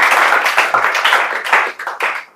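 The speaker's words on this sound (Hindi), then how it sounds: "इनके स्वागत के लिए जोरदार ताली आप लोग बजाइए।" An audience in a celebration hall claps to welcome a student, loud and close, a lively burst of many hands with some individual claps standing out before it trails off abruptly.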